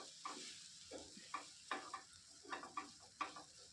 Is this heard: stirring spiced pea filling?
yes